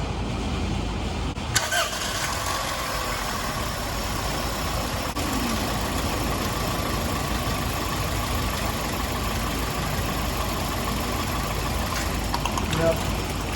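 A car engine idles with a misfire on cylinder one, holding a steady rough drone from start to finish, with a brief clunk near the start and faint, indistinct background voices.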